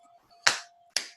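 Two sharp finger snaps from children counting ring out about half a second apart, close and crisp with a faint steady hum between them.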